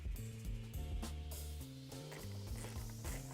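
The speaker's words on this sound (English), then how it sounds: "we're gonna take those nuts that we removed and thread them onto the posts." Nuts are ratcheted down onto the mounting posts of a Molded Innovations tail light on a Subaru WRX/STI, a quick run of close, quiet clicking strokes repeated without pause.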